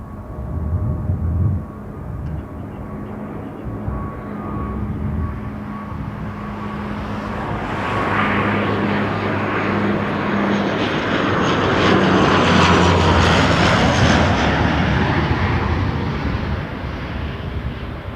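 An Envoy airplane at Toronto Pearson Airport roars steadily, its engine noise building in loudness and breadth as it passes close by, a continuous, rushing drone with no voices.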